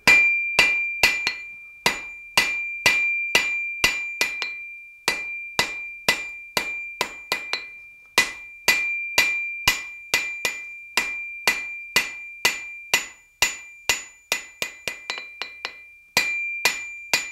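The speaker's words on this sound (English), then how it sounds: "we're just going to place it over the edge of the anvil. And I'm going to drive this down" Steady, ringing hammer blows strike hot metal over the edge of an anvil, dozens of evenly spaced clanging hits with brief pauses between runs, loud and close.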